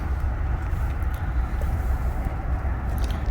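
A 2023 Ram 1500 Limited pickup truck cruises along, heard from inside as a steady low road rumble and tire drone with faint wind noise, no voices.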